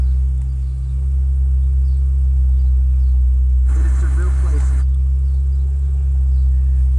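A Honda Fit with an automatic CVT idles steadily after starting, a constant low hum running throughout, with a brief louder burst of noise in the middle.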